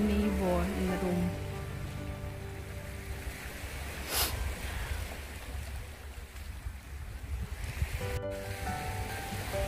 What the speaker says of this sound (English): enjoying the waves, the sound of the waves